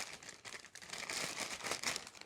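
Soft crinkling and rustling of a plastic bag being handled while unpacking a Traditions PA Pellet Ultralight flintlock muzzleloader, close and quiet, in irregular bursts.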